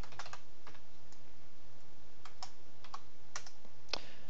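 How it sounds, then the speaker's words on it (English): Typing on a computer keyboard while coding a Qt C++ program, a steady run of soft key clicks with a few sharper taps standing out, close and fairly quiet, with no voice. "I cannot type tonight"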